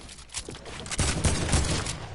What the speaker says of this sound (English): I'm getting shot by both angles